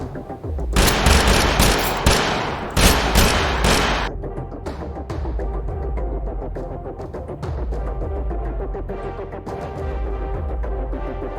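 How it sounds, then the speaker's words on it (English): Rapid bursts of Beam AR assault rifle fire in the video game TABG, loud and close, with repeated tight volleys of shots followed by steadier stretches of rhythmic firing and thumping. "But, the Beam AR has a full auto burst, which most other burst weapons do not."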